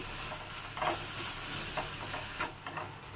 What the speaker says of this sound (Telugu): దీంట్లో ఇప్పుడు టూ స్పూన్స్ అల్లం వెల్లుల్లి పేస్ట్ వేసుకోవాలి దీన్ని కూడా కలర్ వచ్చేంత వరకు వేయించుకోవాలండి